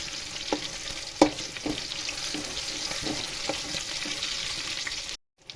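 Ingredients for tomato pachadi are dry-fried in a pan, a soft, low crackle with faint scraping stirs at an irregular pace, cutting off abruptly near the end.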